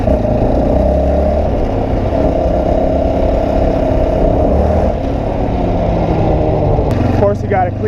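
A Yamaha Raptor 700 ATV engine revs loudly while being ridden, a steady close-up engine roar with rising pitch near the end and a voice talking over it.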